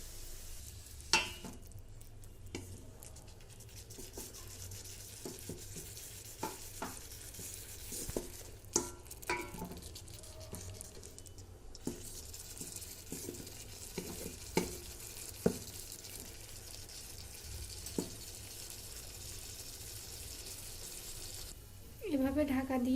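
Marinated hilsa fish with its spices cook in a pot for Bangladeshi ilish polao, giving a steady low sizzle broken by scattered clinks and stirring scrapes, while a voice speaks.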